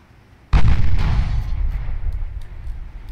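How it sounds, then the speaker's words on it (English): A single heavy naval gun salvo in the naval strategy game Ultimate Admiral Dreadnoughts, with a sudden deep boom and a long rumbling decay that fills the rest of the clip. "We can actually fire some guns."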